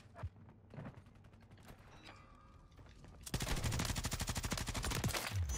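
Gunfire in the Call of Duty Modern Warfare video game: scattered single shots and mechanical clicks, then a sustained rapid burst of automatic fire that is loud and continuous to the end.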